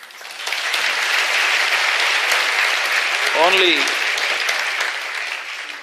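A lecture audience breaks into sustained, dense applause filling the room, with a brief voice rising through the clapping midway.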